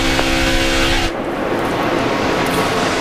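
NASCAR stock cars race past on the track with a loud, close engine roar that cuts off sharply, then a more distant, rumbling field of cars carries on.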